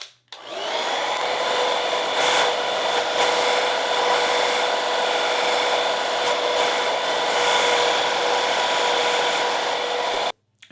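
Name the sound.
hair dryer blow drying hair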